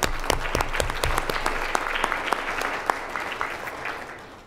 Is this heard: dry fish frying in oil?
no